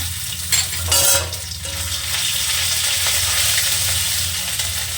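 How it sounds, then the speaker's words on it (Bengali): Ginger and asafoetida fry in hot oil on a low gas flame, a loud steady sizzle with brief stirring scrapes and clatter near the start, no talking. "আদাটা একটু নাড়াচাড়া দিয়ে দিলাম"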